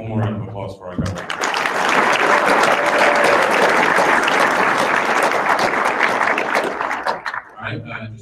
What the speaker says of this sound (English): Give one more round of applause for our government.